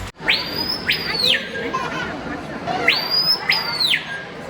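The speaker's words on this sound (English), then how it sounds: "We got to see, or rather hear, some really loud birds." Two loud, piercing bird calls in an indoor rainforest exhibit, each a rising whistle that holds high then drops, repeating about three seconds apart over a murmur of background crowd noise.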